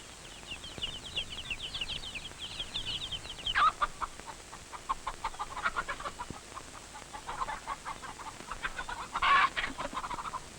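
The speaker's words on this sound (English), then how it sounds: "A new breed of chickens was brought from Kiribati, especially suitable for our climate and conditions." Chickens of a breed brought from Kiribati cluck and chatter throughout, several birds at moderate distance, with a few louder squawks rising over a steady outdoor background.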